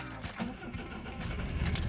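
Older, fairly original BMW engine running with an unhealthy-sounding stock exhaust header: a steady, rough, rattly idle with uneven pulsing, close and continuous throughout.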